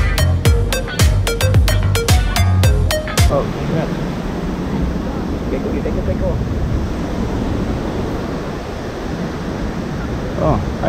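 A waterfall in Sihanoukville, Cambodia during the rainy season gives a steady, broad rushing roar that fills the scene; the first few seconds carry sharp clicks and taps near the microphone before the continuous water noise takes over.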